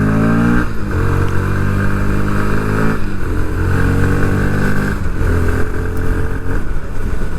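A 2021 BS6 Bajaj Pulsar NS160, a 160cc sports motorcycle, idles and revs loudly up close, its engine note rising and falling in repeated blips with a steady throbbing drone underneath and no talk.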